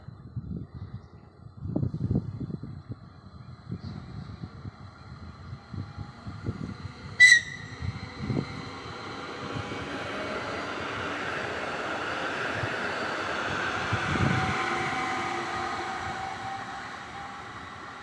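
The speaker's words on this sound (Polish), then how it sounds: "Odjeżdża skład osobowy racji Kacak Debrecen." A passenger train pulls out of a station in Hungary, bound for Debrecen. Its broad rumble and rolling noise build steadily and stay close for most of the stretch, with a sharp metallic squeal or clank near the middle.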